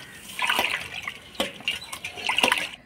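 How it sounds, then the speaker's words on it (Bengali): Prawns being washed by hand in water, with irregular sloshing and splashing in a few bursts, close and moderately quiet. "এবার পরিষ্কার করে ধুয়ে নিব।"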